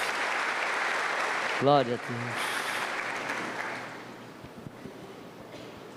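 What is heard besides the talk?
congregation applauding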